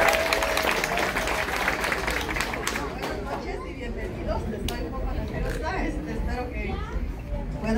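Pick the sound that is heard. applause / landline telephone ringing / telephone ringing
applause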